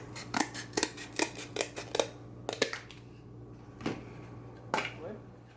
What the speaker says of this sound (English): so you cut the two pieces of cardboard to be pretty much even and to fit the size of a top loader